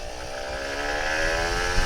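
An older Kawasaki Ninja RR 150 motorcycle engine revs up, its pitch rising steadily over a couple of seconds, fairly close and loud.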